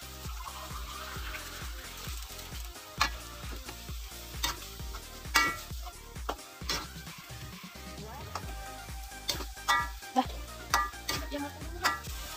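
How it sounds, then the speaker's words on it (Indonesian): Fish in Padang sauce is stirred in a pan, with a utensil scraping and tapping the metal in irregular clicks over a soft, steady sizzle. "Jika sudah, aduk hingga rata."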